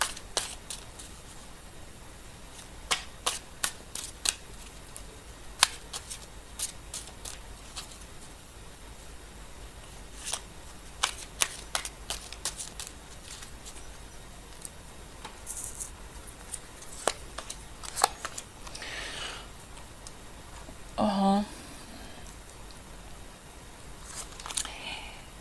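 Tarot cards are handled and shuffled during a Pisces reading, with scattered faint snaps and taps of card stock and a brief riffle near the end, in a quiet room with no voices.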